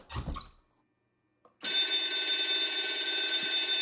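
A school fire alarm bell kicks in after a short burst of talk and a pause, ringing loud and continuous with a steady, shrill metallic tone.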